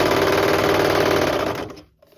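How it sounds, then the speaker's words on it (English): A serger sewing machine runs fast along a fabric edge of a face mask, making a loud, close, steady mechanical whir that winds down and stops near the end. "Put it into the serger, and we're going to serge that whole edge."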